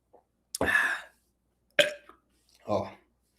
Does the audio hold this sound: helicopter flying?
no